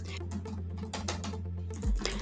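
Rapid typing on a computer keyboard, a fast run of light clicks and key taps close by, ending in a slightly heavier thump.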